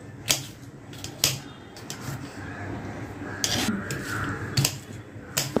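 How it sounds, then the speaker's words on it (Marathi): A knife cuts tomatoes on a cutting board in a home kitchen while fenugreek-leaf curry is being made, giving a few sharp, spaced taps over a soft, steady background. "चांगलं टोमॅटो हे कापून घेऊया आपण."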